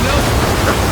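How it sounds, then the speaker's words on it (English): Brief rushing waterfall surge from an attack in The God Slayer video game, a loud, dense, noisy wash of water lasting about a second. "There's no way you hit him with the waterfall."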